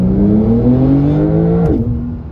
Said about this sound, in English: this thing is playing exhaust noises through the speakers